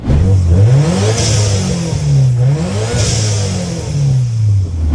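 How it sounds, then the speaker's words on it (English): A built, turbocharged Subaru engine with a new blow-off valve revs up and down repeatedly, its exhaust note rising and falling in loud, close pulls with a whooshing turbo edge. "making intoxicating exhaust and turbo noises"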